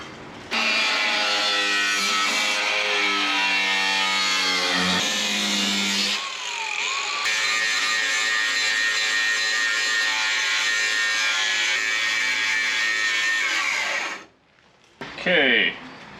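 Power tool cutting through a car body panel during a conversion of a four-door hardtop into a two-door, a steady harsh buzzing grind that runs loud and near for most of the time, cutting out briefly before resuming, then stopping near the end.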